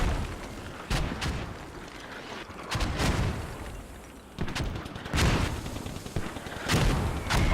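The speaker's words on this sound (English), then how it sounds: "it takes one accurate mortar right" Mortar and gunfire booms in a competitive tactical shooter match, several sharp impacts landing in bursts with rumbling tails, some close and loud, others more distant, over a constant battlefield din.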